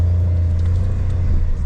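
A car engine idles and pulls away close by, a heavy, steady low rumble that holds throughout the short moment.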